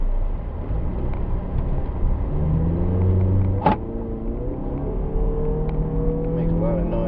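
A 2012 Jeep Compass accelerates hard from a standstill toward 60 mph, its engine droning and rising steadily from inside the cabin, with one brief click partway through.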